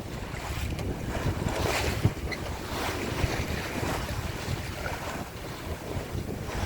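A sailboat moves at 5 to 6 knots through light choppy water, with a steady wash of hull and waves under wind buffeting the microphone and occasional louder splashes.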